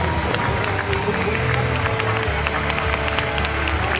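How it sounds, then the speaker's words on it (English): Applause from the audience at a St Patrick's Day parade in Bergen County, a broad, continuous outdoor wash of clapping and crowd noise with some cheering mixed in. "A big round of applause for all the marshals."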